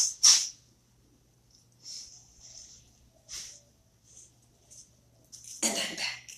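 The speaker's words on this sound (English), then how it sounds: "I gotta blow my nose." Several short, breathy blowing bursts with pauses between them, ending in a longer, louder honking blow up close.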